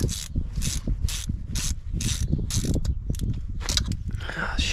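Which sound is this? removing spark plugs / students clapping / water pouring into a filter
removing spark plugs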